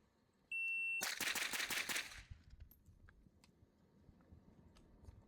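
Rapid string of shots from a Scorpion 9mm pistol-caliber carbine on a shooting range, fired fast in a tight burst for about a second after a timer beep, then fading into ambient range noise.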